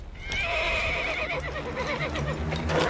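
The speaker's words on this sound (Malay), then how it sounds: "Kuda bodoh." A horse whinnies in a long, wavering neigh that rises and falls, loud and close, with faint hoof clopping in the background and no speech; it comes from an animated series about Saladin.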